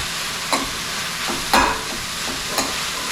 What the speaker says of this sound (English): Roast this onion for 1 minute.